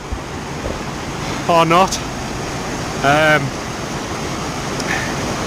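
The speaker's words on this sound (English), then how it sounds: "Hopefully you'll be able to hear me over the water" Water rushes near the shore in a constant broadband roar that fills the scene, with a voice speaking briefly over it twice.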